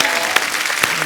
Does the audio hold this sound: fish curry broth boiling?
no